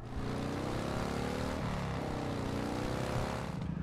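A motorbike engine from the survival game Last Day on Earth runs steadily throughout, a continuous loud buzzing drone with faint harmonic whine and no talk over it.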